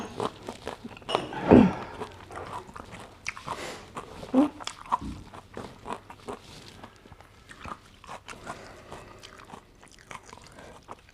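Someone eating raw liver close to the microphone, with wet chewing and irregular soft crunches and smacks spread over several seconds, plus light background shuffling and no clear talk.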